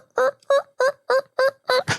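Imitated turkey calls from a hunter in a spring hunt, six loud, close, evenly spaced yelping notes, each one a short nasal burst, ending with a rougher raspy note and no talking.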